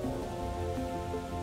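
Steady rain falls on the slopes of a mountain, making a dense, even hiss that continues without a break.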